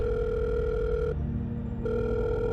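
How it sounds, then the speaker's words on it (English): Telephone ringback in a short horror story: a steady electronic tone sounds, breaks off in a brief gap, then resumes, loud and close with a low hum beneath. "I dialed her number and waited for her to respond."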